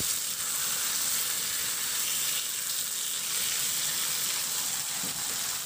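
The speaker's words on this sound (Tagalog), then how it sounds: "ilagay ko na rin ulit yung pork liempo at ihalo lang hanggang sa magisa lang ng mabuti at maglabas din siya ng sarili niyang mantika" Pork liempo sizzles steadily as it sautés and is stirred in its own rendered oil, a loud, continuous crackling hiss that stays close throughout.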